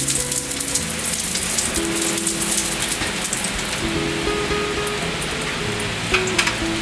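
Ginger sizzling in smoking-hot oil in a pan, a steady, dense crackle that holds at an even level throughout with no talk.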